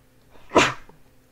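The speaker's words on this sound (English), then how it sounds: "As I'm about to sneeze." A single sharp human sneeze bursts out mid-sentence, loud and close, with a short intake before it and quiet afterward.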